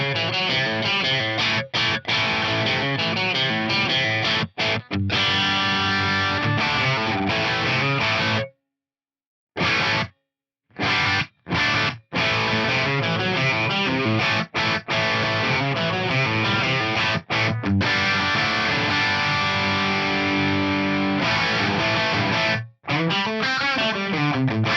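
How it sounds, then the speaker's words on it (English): A distorted electric guitar played through a Fractal JCM 800 amp model with cab room ambience chugs and rings loudly for about twenty-five seconds, broken by a few brief silent gaps. "I'm using the JCM 800 model. It sounds like this."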